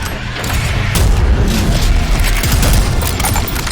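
In the Prodeus video game, Lost Soul-like enemies burst apart when shot, a dense stretch of booming blasts and gunfire rumbling steadily with no pause.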